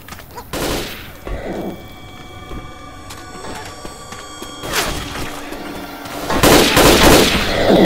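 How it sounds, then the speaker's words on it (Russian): Bursts of gunfire in the zombie shooter Left 4 Dead 2, loud sharp shots early, then heavier rapid fire swelling near the end, with mechanical clicks between. "Стреляйте им в спину."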